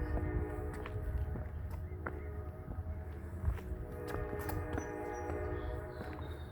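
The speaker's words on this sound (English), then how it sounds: "Just in time, here comes a train" A train rumbles past with clanking wheels and rhythmic rail clatter, a steady loud mechanical roar throughout, no voices.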